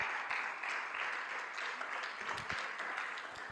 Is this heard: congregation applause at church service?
yes